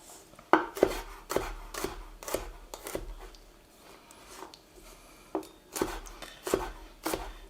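A knife chopping for Trinidad lamb curry on a cutting board, close and fairly quiet, with sharp knocks coming in an uneven rhythm with short pauses between them.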